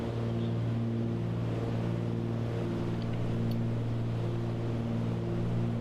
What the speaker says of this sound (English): Can't hear my own voice over the fucking engines.